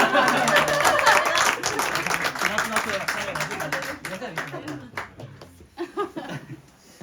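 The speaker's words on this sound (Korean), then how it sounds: "우리 다시 한번 우리 팀장님들께 박수 한번 부탁드릴게요" A church congregation applauds its team leaders, a dense round of clapping that fades over several seconds into scattered claps, with talk over the top.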